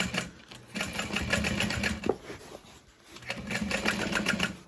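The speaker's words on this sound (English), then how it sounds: "use a 1/2 inch seam allowance to sew all that together" A sewing machine stitches a tote bag seam, its needle running in a fast, steady mechanical whir close by that pauses briefly midway before starting again.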